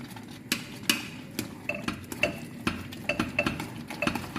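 A utensil stirring noodles in a pan with cheese and tomato paste, giving close, irregular scraping and clinking strokes with a soft sizzle underneath and no talking.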